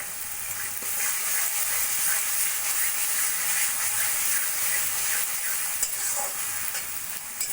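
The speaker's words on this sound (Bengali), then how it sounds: "মশলা কষা হতে হতে দিয়ে দেবো অল্প করে কাশ্মীরি লঙ্কার গুঁড়ো" Spiced masala frying in oil with a little Kashmiri chili powder, for a Bengali cauliflower curry: a steady, loud broadband sizzle and hiss with faint stirring scrapes, continuous throughout and alone.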